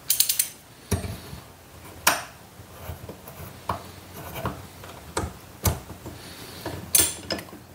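Sharp ratchet-and-pawl clicks from a hand mechanism while fitting a cut-out leash hanger part, coming as a sparse, uneven series of distinct snaps with quieter mechanical ticks between them, close and clear with no talking.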